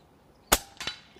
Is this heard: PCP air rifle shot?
yes